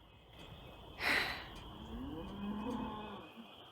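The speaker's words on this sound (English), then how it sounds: "now I hear that cow again" A cow moos loudly from somewhere outdoors, sounding as though it may be stuck in a fence. One sharp bellow is followed by a lower, drawn-out moo, with no speech.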